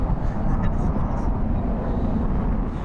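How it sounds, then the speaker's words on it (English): A military jet takes off on afterburners, a loud continuous broadband roar with a deep rumbling low end, steady throughout with no break in the noise. "they go hit afterburners, they get up airspeed, and they go nine degree climb out into an Immelmann"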